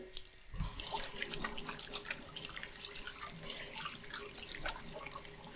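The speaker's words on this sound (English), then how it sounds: "I'm going to wash my hands now" A kitchen sink tap runs while hands are washed under it, a continuous, fairly quiet stream of water with splashing and dripping throughout.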